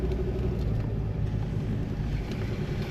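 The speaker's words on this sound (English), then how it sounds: "You can feel the car having to work a bit more." A car engine working hard as it drives over soft beach sand at Inskip Point, a continuous low rumble mixed with wind buffeting on the microphone, steady and moderately loud with no voices.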